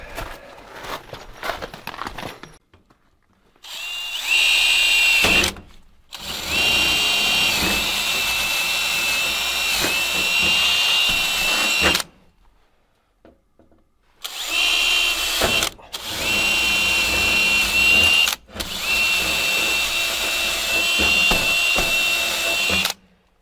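A power drill with a dull bit whines loudly in several long bursts separated by brief silences, its high grinding tone steady during each run.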